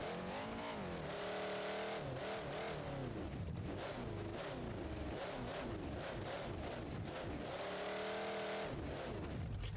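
A monster truck engine revs and accelerates in BeamNG.Drive, loud and close, its pitch repeatedly rising and falling in surging bursts over ten seconds with no talk.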